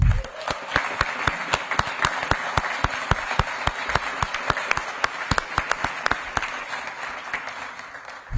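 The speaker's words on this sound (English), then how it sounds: "Let's give them a round of applause." Audience applause for a high school marching band honored at a school district board meeting, a steady indoor wash of many hands clapping for about eight seconds, with sharp individual claps standing out.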